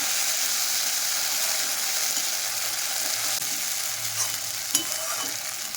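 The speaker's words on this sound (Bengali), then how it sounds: "মশলা বেশ ভালো করে কষানো হয়ে গেছে এবার আমি দিলাম হলুদ গুঁড়ো আবারও কষিয়ে নিচ্ছি" Spices and tomato paste, with turmeric, sautéed in a pan for chana masala: a steady, close hiss of frying with soft stirring scrapes, continuous throughout, with one small clack near the end and no talk.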